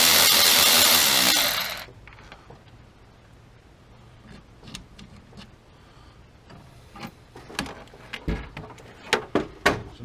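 Nut or bolt being backed out on the steering column of a 1992 Chevy K1500, a loud power tool burst first, then scattered metallic clicks and knocks that grow sharper toward the end.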